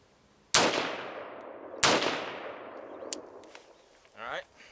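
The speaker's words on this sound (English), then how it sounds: "the AR-10 shoots a .308 bullet, and this is what it sounds like not suppressed" Two loud unsuppressed shots from an AR-10 rifle firing .308 rounds, each a sharp crack with a long echoing decay, spaced about a second apart, followed by faint clinks and a brief voice.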